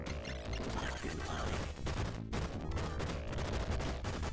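Rapid gunfire from the spread gun in the Sega Genesis game Contra: Hard Corps, dense continuous volleys with crashing blasts over a busy game soundtrack, steady and loud throughout.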